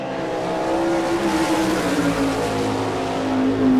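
A sprint car with a Sprint Enterprises Maxim chassis and a Campbell engine roars on a qualifying lap at an Ohio dirt track, a loud, sustained close engine drone that shifts slightly in pitch as it passes.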